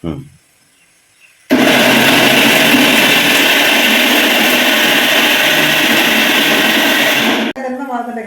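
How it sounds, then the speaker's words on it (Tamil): Mixer grinder blitzing roasted shallots, garlic, ginger and spices, a loud steady whirring roar that starts abruptly after a short quiet pause and cuts off near the end, with a voice briefly before and after. "இப்போ இதை அரைச்சி எடுத்துக்கலாம்"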